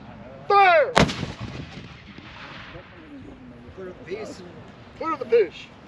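A cannon fires once in an outdoor demonstration, a sharp loud blast with a short rumbling tail, set between shouted commands and nearby voices.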